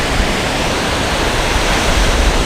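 Steady, loud roar of ocean surf breaking on a west coast beach where kahawai and gannets are feeding, a dense continuous wash filling the whole clip with no voices.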